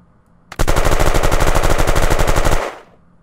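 A rapid, loud burst of automatic machine-gun fire from the video game Unturned, about two seconds of evenly spaced shots fired from a 50-round magazine, cutting off sharply and then fading into a brief tail.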